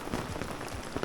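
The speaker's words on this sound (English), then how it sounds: "And I've never seen this much rain." Heavy rain pours outside a house during a flood, a dense, steady hiss of drops with no clear breaks, moderately loud and close.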